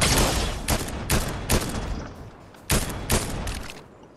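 Gunfire rings out in the Fortnite video game: loud, close bursts of sharp shots, roughly eight separate reports spaced irregularly with brief gaps between them.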